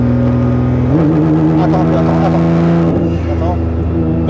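A 1500-horsepower Nissan GT-R R35 engine drones loudly and close, its revs rising and shifting as it accelerates, with voices talking over the engine.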